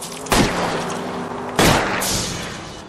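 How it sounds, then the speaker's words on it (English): Two loud, sharp pistol shots fired at a fleeing car's tires in LA Noire, about a second apart, each cracking close and decaying over a steady engine rumble, with a fainter third pop after. "I'll try to shoot out his tires."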